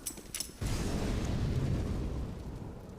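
A grenade explodes on the Train map in Counter-Strike, a sudden low boom that rumbles on for a couple of seconds after brief faint clicks.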